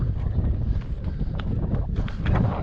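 Strong wind buffets the microphone at the Cosmic Ashtray desert rock formation in Grand Staircase-Escalante, Utah, a steady, loud, rumbling roar throughout with no voices.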